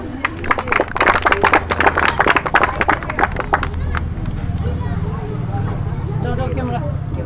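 Students giving their teacher a loud round of applause at a Republic Day school event, sharp close clapping for about four seconds, then fading into room murmur and voices.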